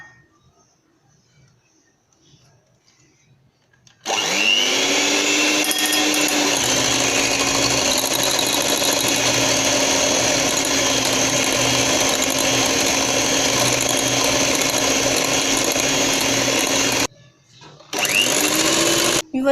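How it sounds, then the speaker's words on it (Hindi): An electric beater whirs loudly and steadily as it whips chilled, nearly frozen cream in a bowl for mango ice cream, starting after a few quiet seconds and cutting out briefly near the end before resuming. "इसे हम अच्छे से बीट कर लेंगे।"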